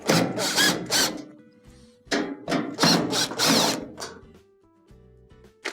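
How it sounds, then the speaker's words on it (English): A power drill with a Phillips bit removes three top-panel screws from a GE dryer, giving several short, close whirring bursts separated by brief pauses, with a faint steady motor whine between them. "to remove the top, you will have to remove these 3 screws here. All of them can be taken off with the Phillips bit."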